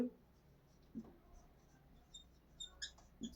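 Pen or chalk writing out a sentence during a grammar lesson, faint scratchy strokes in short bursts against a quiet room.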